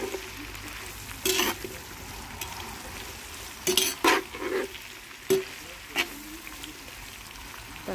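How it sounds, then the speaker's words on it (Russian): Onion and carrot frying in a kazan: a low steady sizzle underneath, broken by several scraping stirs of the vegetables, close by and fairly quiet. "Так, теперь пускай обжаривается."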